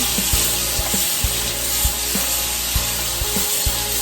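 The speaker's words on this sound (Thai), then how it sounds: "ผัดทุกอย่างให้เข้ากันนะคะ" Crispy pork with garlic, sugar and seasoning powder being stir-fried in a pan: steady hissing sizzle with regular scraping and knocking of the spatula against the pan, close and continuous with no talk.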